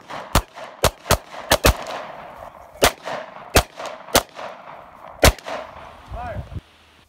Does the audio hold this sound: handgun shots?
yes